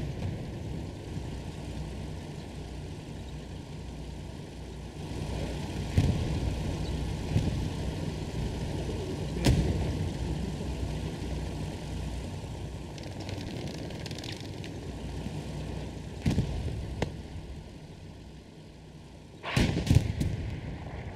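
An M4 Sherman 76 tank in Hell Let Loose fires in several heavy booms spread over the stretch, some distant and muffled, others sharper, over a continuous low engine and battlefield rumble.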